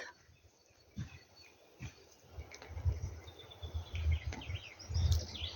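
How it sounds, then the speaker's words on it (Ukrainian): Faint birds chirp in the distance over a low outdoor rumble of wind in a pine forest, with brief thin calls scattered throughout. "Так, пташечки співають."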